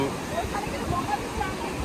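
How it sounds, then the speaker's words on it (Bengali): Big sea waves crashing at high tide on Puri beach in rough weather: a steady, broad wash of surf roars continuously close by, with a voice faintly in the mix. "আবহাওয়া খারাপ হওয়ার জন্য দেখো হাই টাইড চলছে, ঢেউ বড় বড়।"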